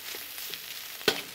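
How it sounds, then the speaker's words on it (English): Fried rice sizzling and crackling in a hot frying pan, a close hiss with small pops and one sharper burst as it is tossed, no talking. "You hear that sizzle."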